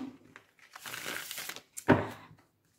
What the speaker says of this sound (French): Là, je vais vraiment tirer les cartes